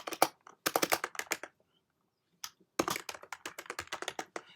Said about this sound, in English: So I'm typing the name like fast recording